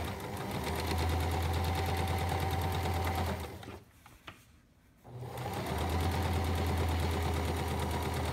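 A sewing machine runs a straight quarter-inch stitch along a pintuck fold, a loud steady whir that stops for about a second in the middle with a click or two, then starts again and runs to the end.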